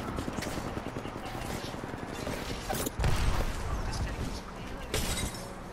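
Gunfire from the video game Apex Legends rattles in bursts of sharp shots and mechanical clatter, heard under excited close-up talk.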